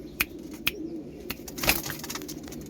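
Four pigeons coo softly from close by, their low, quiet calls broken by a few sharp clicks and a brief rustle of moving feathers.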